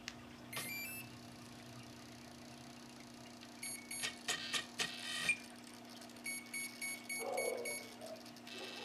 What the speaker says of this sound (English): you heard the first two beeps, and then when I switched it down to zero, you heard the completed tones